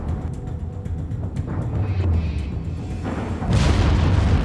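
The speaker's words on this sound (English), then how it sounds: "it detonated right next to or in the powder magazine and inflicted a crippling blow" A bomb detonates in or beside the powder magazine of the USS Arizona, a battleship at Pearl Harbor, giving a steady heavy low rumble that swells into a louder, broader roar near the end, with no talk.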